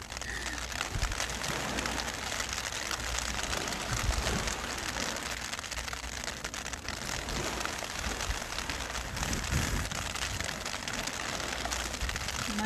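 Rain patters steadily on surfaces, a dense crackling hiss with scattered louder drops, continuing throughout without talk.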